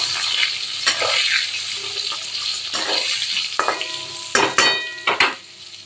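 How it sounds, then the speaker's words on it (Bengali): Eggplant frying in oil with salt and turmeric: a steady sizzling hiss with scattered scraping and stirring clatters that come closer together and louder near the end, with no voices. "একটু নুন আর হলুদ দিয়ে বেগুনটা ভেজে নেব"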